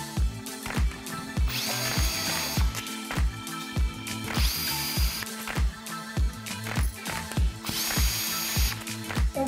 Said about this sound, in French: On va maintenant retirer nos vis.